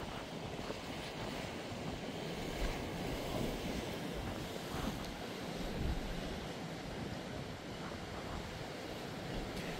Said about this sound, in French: Et certainement les dernières vagues de la journée.